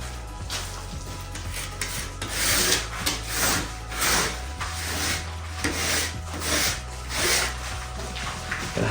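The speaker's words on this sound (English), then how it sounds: "So I will use a subform, also known as a rasp." A surform rasp filing down a plastered edge, rhythmic rough scraping strokes repeating about once a second, close and steady throughout.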